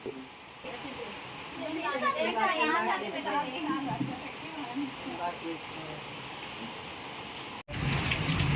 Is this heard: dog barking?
no